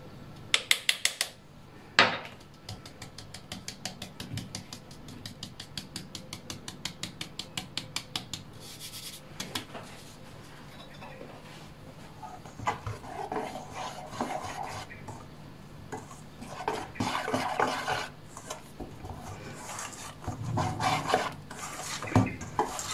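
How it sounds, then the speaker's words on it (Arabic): Flour sifted into an opera cake batter: rapid rhythmic tapping and rasping of a sieve, bursts of quick taps early on, then softer scraping and rustling, fairly faint and close. "غادي نضيفوا الدقيق حتى هو نحاولوا نغربلوه"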